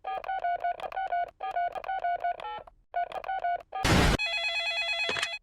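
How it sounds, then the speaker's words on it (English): A cartoon telephone in a Peppa Pig episode rings in repeated electronic trilling bursts, then a loud crackle and a steady tone follow near the end; no voices. "I'll ring Susie Sheep's mummy"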